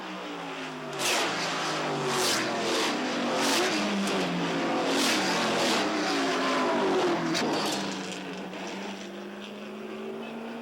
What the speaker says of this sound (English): Lots of cars, racing wheel to wheel.